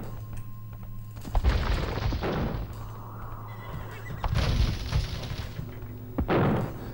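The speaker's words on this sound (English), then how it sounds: "These are some heavy cannons." Heavy cannons fire in Age of Empires 2 during a naval fight against ships, several deep booming blasts spaced a second or two apart over a steady game-ambience hum.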